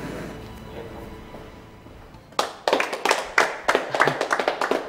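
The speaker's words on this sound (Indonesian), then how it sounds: "Udah, nggak usah tepuk tangan." Several people suddenly begin clapping their hands partway through, a close, uneven patter of sharp claps lasting a couple of seconds after a quieter stretch of background noise.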